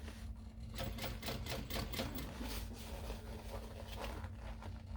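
A sewing machine stitching around the curve of a small mini backpack gives off a quiet, steady motor hum with fast, even needle ticking.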